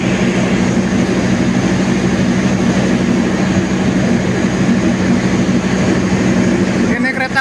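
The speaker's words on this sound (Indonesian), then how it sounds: "yang paling depan adalah lokomotif kemudian gerbong kereta diesel dan kereta kompartemen" A KA Argo Semeru train with a diesel locomotive and compartment cars runs past as a steady, loud rumble with a low engine drone, continuous throughout, with a voice speaking over it.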